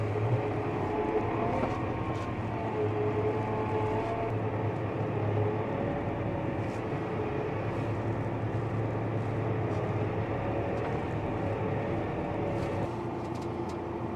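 A digger works steadily nearby, digging a trench through tree roots for a carrot field, its engine a constant rumbling drone with faint clanks, and no talking.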